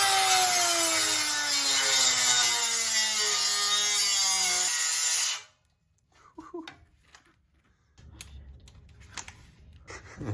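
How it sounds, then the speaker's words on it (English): Saw cutting through an old exhaust pipe from a Tahoe, a loud continuous harsh rasping with rising and falling tones for about five seconds, then stopping abruptly, followed by quiet scattered clinks and handling noises. "so let's just have fun and start cutting things"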